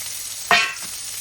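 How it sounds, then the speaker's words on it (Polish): Carrot and onion dropped into hot clarified butter, a single sudden sizzling burst that quickly settles into a quiet crackle, close up with no talk. "Na to masło wrzucam marchew i cebulę"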